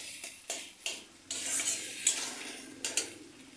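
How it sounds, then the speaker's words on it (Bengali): Hot water poured from a vessel into a pot of mung dal cooked with a fish head, a close, splashy rush of liquid with a few clinks and knocks of cookware around it, no voices. "এবার দিয়ে দেবো আমি গরম জল।"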